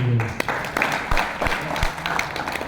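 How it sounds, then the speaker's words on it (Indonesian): A crowd at a Partai Buruh roadshow in Riau applauds, a dense patter of clapping that fades gradually over a few seconds after a brief voice at the start. "Tepuk tangan ya."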